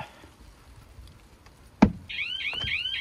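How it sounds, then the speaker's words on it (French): A Carprotec vehicle alarm on a leisure vehicle, heard outdoors, starts with a sharp click, then sounds a loud, repeating high-pitched warbling siren that keeps cycling. "tout de suite, vous entendez, l'alarme s'est déclenchée"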